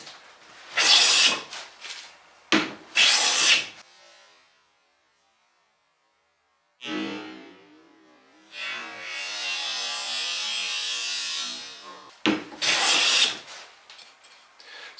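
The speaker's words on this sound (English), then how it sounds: "So a little bit of planing." Hand plane shaving wood components to even thickness before glue-up for a table rail, heard as a few short bursts of strokes, then one longer sustained pass followed by another burst, separated by quiet gaps.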